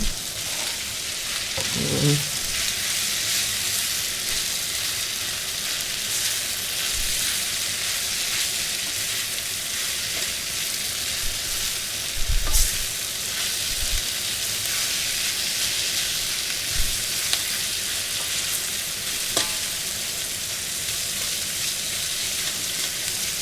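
Squash fries with meat in a pan, a continuous close sizzle broken by occasional scrapes and knocks of a utensil stirring the pieces, with no voices.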